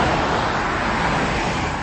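Steady road traffic passes outside, a continuous broadband rush of cars close by with no pause.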